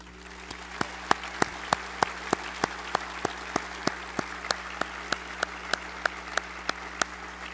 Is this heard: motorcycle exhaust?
no